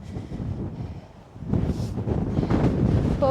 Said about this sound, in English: It's nice, it's just a bit windy.